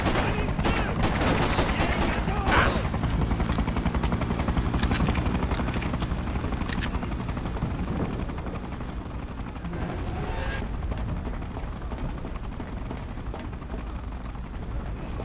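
Rapid gunfire from soldiers in the Freedom Fighters video game, a dense, loud barrage of shots running continuously under a steady engine-like drone, with sharper bursts standing out early on.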